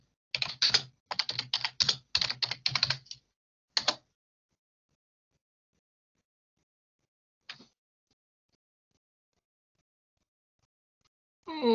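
Bursts of rapid keystrokes on a computer keyboard, typing a short prompt in quick clusters, then a pause, with a single brief click later and a faint sound at the end; close and clear, no talking.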